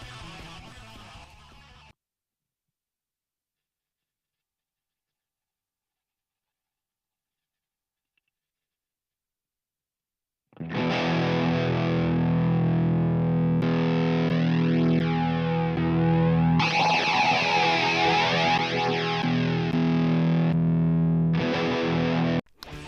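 Electric guitar played through a Valeton GP-50 multi-effects unit with a distortion patch, a loud sustained chordal passage with shifting tone after a short opening burst and a long silence, no talking.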